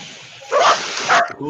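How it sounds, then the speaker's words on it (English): A dog barking in two short, close bursts about half a second apart, followed by a brief yip, with a person's voice speaking briefly at the end. "No, that was my dog barking."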